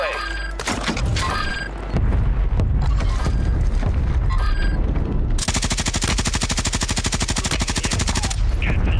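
Heavy automatic gunfire from Call of Duty: Warzone, sporadic shots early, then a long sustained machine-gun burst of rapid, evenly spaced loud reports ending near the close.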